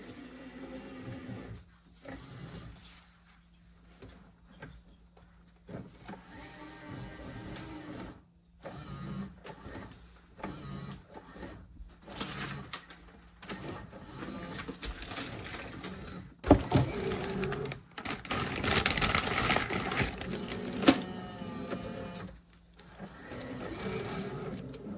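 A Bambu P1S 3D printer whirs and clicks in short mechanical bursts as filament is fed in, with motor buzzing and rattling that grows louder and busier near the end.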